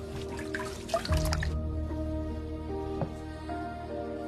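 Water splashes and drips into a basin as feet are washed, with a short burst of pouring near the start, then quieter trickling and a few close drops, with no talking.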